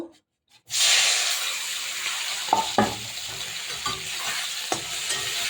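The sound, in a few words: puti fish frying in hot oil in a wok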